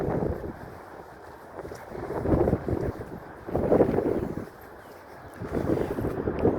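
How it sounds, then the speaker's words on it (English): Strong wind buffets the microphone on an outdoor walk through a park, roaring in loud surging gusts that rise and fall over several seconds with steady rushing between. "And the wind's blowing pretty good too."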